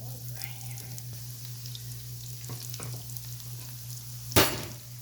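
Bread and egg tikki kebabs frying in oil over a medium flame give a soft, steady sizzle throughout, with a sudden brief clatter near the end.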